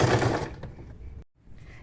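A domestic sewing machine stitches through fabric along the outline of a teddy bear made from old clothes. A close, steady whirring runs for about half a second, tapers off, stops briefly and then gives a faint resumption.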